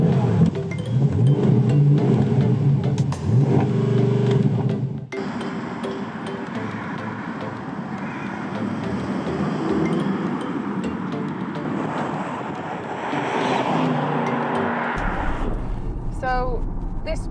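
Porsche Panamera Turbo with 550 brake horsepower, engine droning and rising under acceleration while driving, a steady loud cabin rumble and road roar lasting throughout, with a voice speaking over it.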